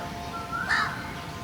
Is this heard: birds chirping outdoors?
yes